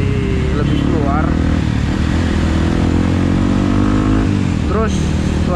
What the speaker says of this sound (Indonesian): Terus suara knalpot juga jadi lebih, gimana ya, lebih galak kalau ganti juken